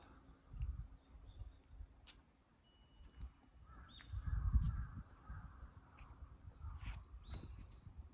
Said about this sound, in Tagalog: Narinig niyo po yung uwak?